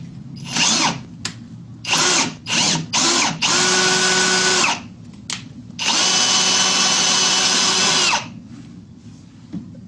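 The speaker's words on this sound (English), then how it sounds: "I'm going to use it in my drill because the flute is actually hardened steel" A power drill drives a 2-flute spiral point gun tap with a hardened steel flute, loud and close, in several short bursts followed by two long sustained runs with brief pauses between them.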